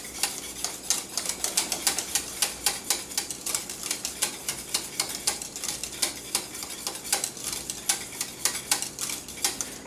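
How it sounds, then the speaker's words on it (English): A whisk beats butterscotch pudding mixture in a pot over the heat, scraping and clicking against the metal in a fast, steady rhythm that continues close-up without talk. "We're just going to cook this for a minute or two, but keep whisking it the whole time"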